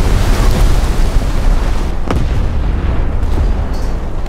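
Heavy naval guns from the warship Marlborough firing in a naval combat video game, a loud continuous roar of booming shots and rumbling explosions with a sharp blast around the middle.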